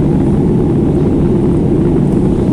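Steady, loud low rumble and broadband roar inside the cabin of a Qatar Airways airliner descending toward Kannur, continuous and even throughout with no voices.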